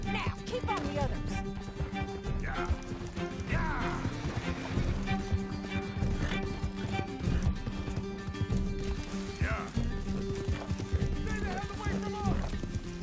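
Horse hooves clip-clop at a steady gallop in Red Dead Redemption 2, running under a continuous game music score, with a voice talking now and then over the pounding rhythm.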